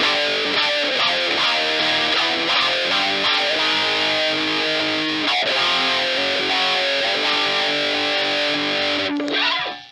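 Electric guitar played through a Behringer Hellbabe wah pedal with its boost engaged, a loud, heavily distorted sustained riff with shifting chords running continuously for about ten seconds before cutting off.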